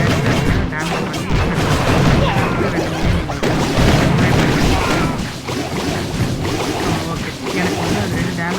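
A Clash of Clans battle in which a firecracker unit takes damage, heard as dense, continuous game audio with repeated crashes and booms layered over a busy effects bed, loud throughout.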